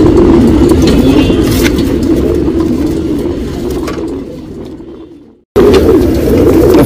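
Pigeons kept as breeder and flyer pairs coo steadily and fairly close, with soft low calls filling the clip before a brief dropout into silence and then resuming.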